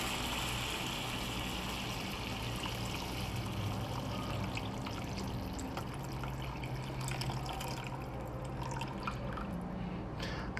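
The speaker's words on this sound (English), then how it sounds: "So I'm just gonna add the whole container to the sausage here." Seafood stock pours from a container into sausage in a ceramic pan while cooking gumbo, a steady close trickle and splash lasting several seconds with no talking.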